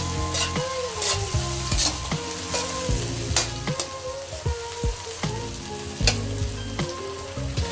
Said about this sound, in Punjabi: ਤੁਸੀਂ ਦੇਖ ਸਕਦੇ ਹੋ ਸਾਡੀ ਸ਼ਿਮਲਾ ਮਿਰਚ ਵੀ ਜਿਹੜੀ ਹੈ ਜੀ ਚੰਗੀ ਤਰ੍ਹਾਂ ਭੁੱਜਦੀ ਪਈ ਹੈ